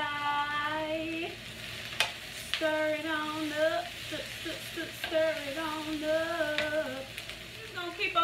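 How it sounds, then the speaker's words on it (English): Cauliflower stir-frying in a wok for vegan Filipino pancit gives a faint sizzle with scraping stirs and clinks, partly under background music and a voice. "Just gonna keep on stirring this up as it is cooking in the wok"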